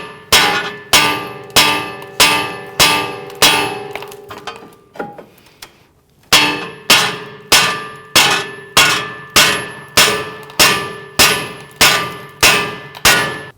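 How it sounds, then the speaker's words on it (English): Brass punch hammered against a 2009-2017 Volvo XC60 front wheel hub to drive it off the strut assembly, loud ringing metallic strikes at a steady pace, a brief pause, then another even run of blows. "That's going to allow us to go ahead and whack this down off of the strut assembly."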